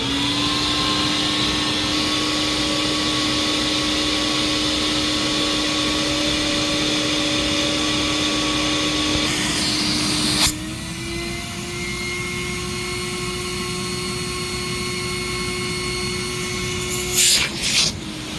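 Tristar CXL two-speed vacuum cleaner running steadily with a hose attached, a loud continuous whine that drops to a lower speed partway through, with brief clunks near the end.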